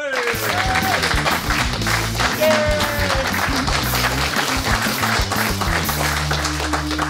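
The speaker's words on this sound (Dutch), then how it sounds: "Dus geef hem alsjeblieft een hard applaus" Loud, dense audience applause welcoming a Dutch comedian onto a stage, continuous clapping mixed with music or other sound throughout, without a break.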